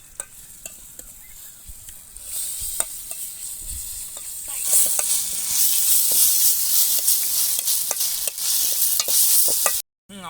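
Bread toast poriyal being stir-fried in a pan, with continuous sizzling and hissing that grows louder midway, broken by scraping stirs and a few sharp clicks of a spatula against the pan, no voices.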